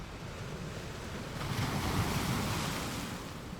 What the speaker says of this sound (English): Imagine the tide gently brushing against the shore.